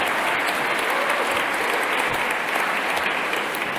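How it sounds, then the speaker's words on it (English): An audience at The Stage Debut Awards in 2017 breaks into applause, a dense, even and loud roar of clapping from many hands, with no pauses. "I think that definitely deserves a round of applause"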